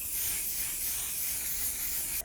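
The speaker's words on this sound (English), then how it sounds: "we're gonna go in with the One Size Secure the Blur waterproof setting spray" One Size Secure the Blur waterproof setting spray is misted in a continuous, soft, airy hiss that lasts about two seconds and then cuts off abruptly. No voices are heard.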